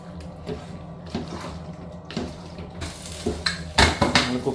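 Washed beef is stirred in a pot with a metal spoon, making repeated clinks and scrapes against the sides. The stirring grows louder and quicker toward the end, with no talking.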